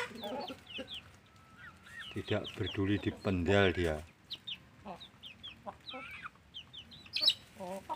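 Chickens cluck and chatter nearby in scattered bursts while a person speaks briefly in the middle.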